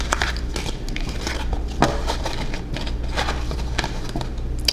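Tarot cards shuffled by hand give a close, quick run of papery crackles and soft slaps in an uneven rhythm.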